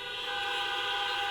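Air horns blown together by a large arena audience, a sustained dense tonal blare at steady loudness throughout, with no voices.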